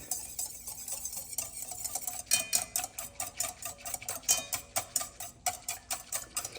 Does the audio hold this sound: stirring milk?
yes